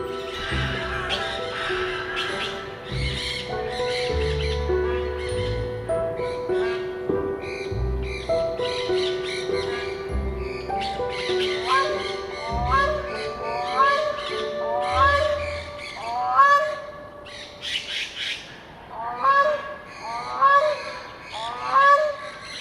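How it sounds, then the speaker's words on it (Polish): Loud, harsh parrot calls squawk repeatedly over a busy, noisy background, with raucous cries overlapping and growing more frequent toward the end. "Doszliśmy do ptaków, do papug."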